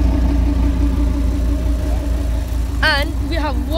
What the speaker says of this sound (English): V10 engine, guys. Sounds amazing.